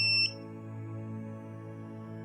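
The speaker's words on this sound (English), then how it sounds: "it will beep to finish the cycle" A single short, high electronic beep from a Tommee Tippee Perfect Prep formula machine finishing its cycle sounds at the start, then stops, leaving a steady low machine hum running underneath.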